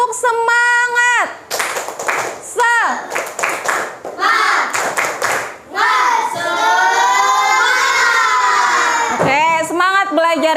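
During a classroom ice-breaker, children clap together in short rhythmic bursts, alternating with loud group chanting and a teacher's voice.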